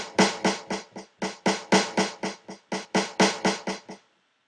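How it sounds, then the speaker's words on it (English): Sampled drum-break snare hit triggered about twenty times in steady rhythm, its loudness shifting from hit to hit as note velocities vary between loud and soft, close and dry with no talking. "you can set up note velocity to control sample volume, so you can be playing the same sound over and over again, but you get a mix of loud and soft hits"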